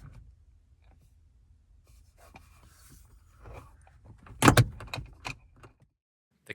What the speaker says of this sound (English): With the connectors and car battery plugged in, I'll reinstall the overhead console.